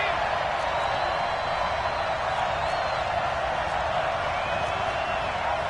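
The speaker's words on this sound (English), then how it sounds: "the crowd getting into it as we come up on a big third down" A video game football stadium crowd cheers as a steady, dense roar that holds at an even level from start to end, with no individual voices standing out.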